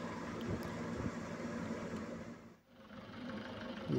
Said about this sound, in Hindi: ये चल रहा है हमारा ट्रैक्टर घर के लिए।